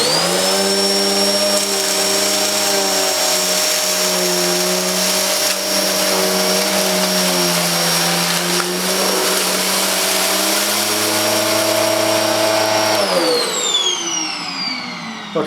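An Electrolux Sanitaire professional upright vacuum cleaner runs loud and steady with a whining motor tone that dips and rises slightly, then winds down near the end as the motor is switched off.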